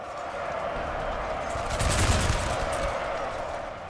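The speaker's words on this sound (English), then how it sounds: "they're shooting right through their own guys" Infantry musket volleys in the Napoleonic-era strategy game Napoleon Total War, a steady crackling roar of massed gunfire that swells to a heavier burst midway before easing back.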